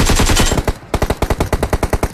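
Rapid automatic gunfire in a shooting video game: a loud sustained burst, a brief gap, then a steady stream of evenly spaced shots at close range.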